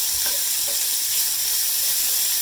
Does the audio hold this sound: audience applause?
no